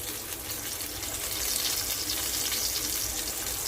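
Fish frying in a pan for a festival-style fried fish dish, a steady, dense sizzle that holds close and even throughout with no talk.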